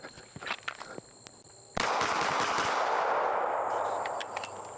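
Pistol shots on a shooting range during a reload drill, a quick string of sharp cracks early on, then a sustained loud burst of rapid reports that continues to the end.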